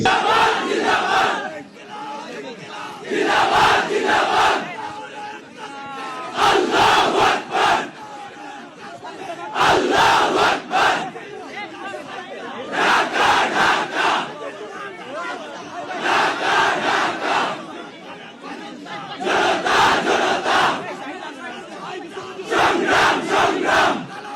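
A large crowd chants political slogans in loud, rhythmic bursts, roughly every two to three seconds, with a leader's call and a mass response repeating over a steady crowd din.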